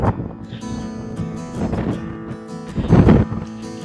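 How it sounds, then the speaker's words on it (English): Strong wind at Port San Luis harbor near Avila Beach buffets the microphone in loud, uneven rumbling gusts, surging hardest near the end. "Harbor is really windy."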